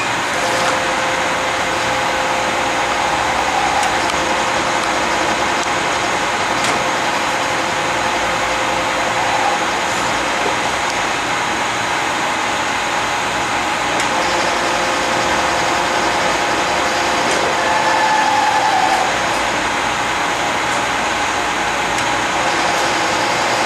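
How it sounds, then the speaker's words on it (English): A lathe turns the commutator of a wheelchair motor armature, giving a steady, loud mechanical drone that holds unchanged for over twenty seconds without speech. "Ramon is going to turn the commutator in the lathe"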